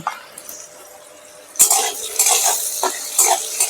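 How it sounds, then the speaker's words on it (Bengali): Potatoes fry with salt and turmeric in a pan while a utensil stirs and scrapes. The sizzle is faint at first, then grows louder with repeated clinks and scrapes of metal against the pan. "হলুদ দিয়ে আমি ভাজবো আলুটা"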